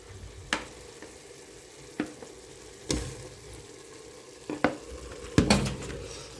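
About a kilo of ground beef and half a kilo of Italian sausage sizzling in a pot, with a soft continuous fry broken by several sharp scrapes and clacks of a utensil mashing the meat.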